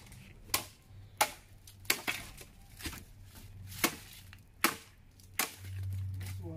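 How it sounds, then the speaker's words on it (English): Wood is chopped for a cooking fire in Jamaica: about eight sharp, separate chops at an uneven pace, close and fairly loud over a quiet hum. A low rumble swells near the end. "try to chop up some wood"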